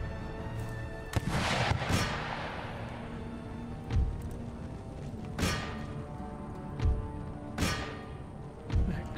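Ship cannons fire in the naval strategy game Empire Total War, a series of booming shots and blasts spaced every second or two over a constant background rumble of battle.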